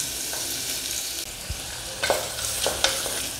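Shallots sauté in oil in a pan for a chicken curry, with a continuous close sizzle broken by a few sharp stirring scrapes and a soft low knock.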